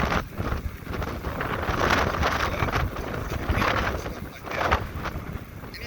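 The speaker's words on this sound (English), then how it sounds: "This wind's hard to ride against like this." Strong wind buffeting a cyclist riding along Route 66, roaring in uneven gusts against the microphone, loud and continuous with surging rises and falls throughout, no speech.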